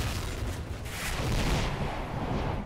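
Loud explosions in the video game S.T.A.L.K.E.R. Narodnaya Solyanka while mutants attack, deep rolling booms and crackling gunfire-like bursts that swell in the middle and trail off, no voices.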